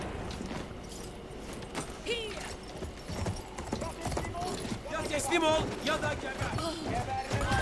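Rhythmic horse hoofbeats clop along amid busy Battlefield 1 game sound effects and music, while a voice talks over the top.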